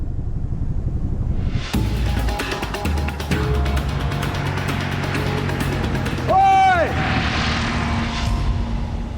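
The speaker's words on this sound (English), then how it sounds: "A spotter plane is heading straight for Theo." Spotter plane flying over the Australian outback as a loud, sustained engine drone with a whining pitch sweep midway, mixed with wind noise and people shouting and talking over it.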